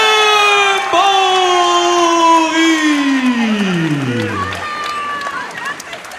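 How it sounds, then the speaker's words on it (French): At a boxing event, the crowd cheers and applauds a challenger, a loud roar of voices and clapping with a sustained, falling announcer's voice on top. "Mesdames et messieurs, on applaudit le premier challenger, Christophe"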